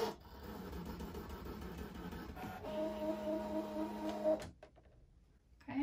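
An electronic cutting machine slices through fabric for reusable coffee sleeves, a steady mechanical whirring and rasping with a whining tone that runs for about four seconds and then stops abruptly, leaving near silence.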